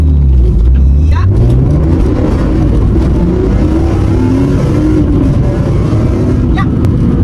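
A BMW E46 M3 engine, not fully warmed up, revs and accelerates hard, a loud continuous roar that climbs in pitch, close by and filling the whole clip.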